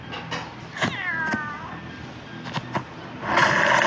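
A cat meows in drawn-out wavering cries inside the video game Ice Scream 2, followed by sharp game clicks and a loud burst of noise near the end.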